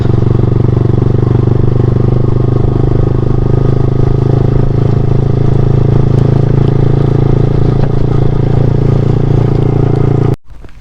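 Yamaha R15 V3 motorcycle exhaust drones loud and steady while riding, a continuous low, throaty roar with faint rattles that runs unbroken almost to the end before cutting off suddenly.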